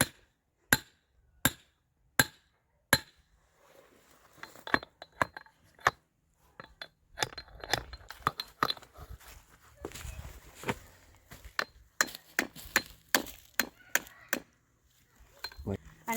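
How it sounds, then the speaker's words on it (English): Hammer striking wood while setting a trap on a family farm: a string of sharp, distinct knocks, first evenly spaced, then quicker clusters mixed with shuffling and handling noise, close to the microphone. "I never use anything besides my hammer"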